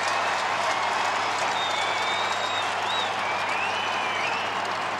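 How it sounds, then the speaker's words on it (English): A big Essendon football crowd roars and applauds a goal against Fremantle in a 2007 match, a broad, steady wash of distant cheering and clapping that holds level throughout. "the Essendon crowd even liked that goal"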